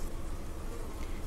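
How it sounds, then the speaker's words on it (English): A dense, steady buzz of many honeybees busy at a farm hive fills a brief moment at close range. "Back at the farm, the bees are getting busy."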